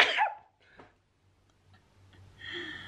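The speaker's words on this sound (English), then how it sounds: "I needed to sneeze." One sharp, close sneeze bursts out at the start, then near-quiet follows with a few soft incidental noises and a faint low hum.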